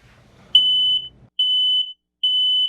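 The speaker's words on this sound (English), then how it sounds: "The shrill, drilling sound of a smoke detector." A smoke detector alarm shrieks in three loud, piercing high-pitched beeps, each about half a second long with short silent gaps between them, after a brief stretch of faint low rumble at the start.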